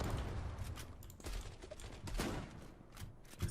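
Shotgun fire in the online shooter Zula comes as a rapid series of booming, broadband blasts at fairly low overall level, several shots in quick succession.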